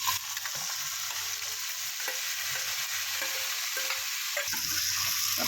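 Boiled lentils being stirred into a cucumber curry in a pan with asafoetida and curry leaves, a steady wet sizzle with scraping spoon strokes running close and continuous throughout.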